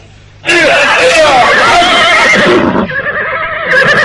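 A horse neighs loudly and close in a radio drama, a long shrill whinny that falls in pitch and is followed by a second shorter neigh, with hoof clatter and background voices.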